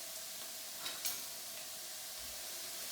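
Garlic sizzles in a pan with cauliflower that is browning toward golden, a steady soft crackle and hiss with a couple of brief stirring scrapes, close and fairly quiet, no voices.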